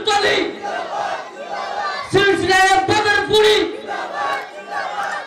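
A large congregation at an Islamic sermon (tafsir) roars the takbir, massed voices shouting in loud, sustained, chant-like bursts that swell and overlap with no pause.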